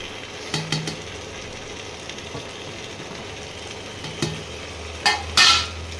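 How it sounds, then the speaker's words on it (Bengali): Fried chicken pieces go into a wok of sizzling cooked-down masala, giving a steady low frying hiss with a few scraping stirs and clinks and a louder burst of sizzle near the end, no talking. "এবারে আবার সেই কড়াইটা বসিয়ে দিলাম, কষা মশলা কষা কড়াইটা। এইবারে এই ভাজা মাংসগুলো আস্তে আস্তে এর মধ্যে দিয়ে দেবো।"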